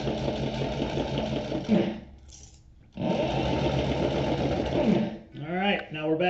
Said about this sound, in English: we're just going to stitch back in the same first couple of holes, go 2 or 3 of them